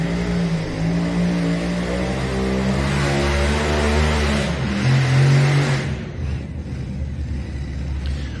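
A pulling tractor at the Budweiser Dairyland Super National Truck and Tractor Pull makes its first hook. The engine roars loud and close, revving harder for several seconds before cutting back abruptly.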